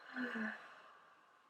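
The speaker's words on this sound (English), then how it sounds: "Open the mouth, exhale." A slow open-mouth exhale during a calming yoga flow, a soft breathy sigh with a faint voiced edge that fades gradually to quiet.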